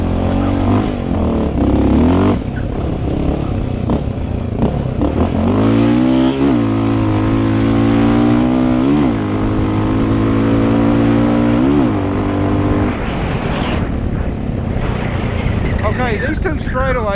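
A Honda 650L motorcycle engine revs and accelerates while being ridden, the loud engine note rising and falling through several gear changes, with wind noise throughout.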